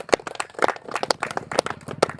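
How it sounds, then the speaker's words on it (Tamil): A crowd claps for a cricket batsman at a local tournament prize presentation, a brisk, uneven patter of hand claps close by that keeps going steadily. "Well plate. கைத்தட்டுங்கப்பா."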